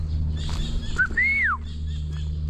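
A single clear bird call rises then falls in a smooth whistled sweep, heard once over a steady low hum outdoors near duck breeding pens.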